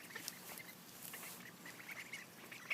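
Khaki Campbell ducklings give faint, soft quacks and peeps scattered over a low background hiss, a few high chirps popping out briefly.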